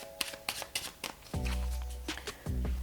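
A normal deck of playing cards being shuffled by hand during a card magic trick, with crisp riffling bursts, short pauses between them and a couple of longer, fuller riffles, close and fairly quiet.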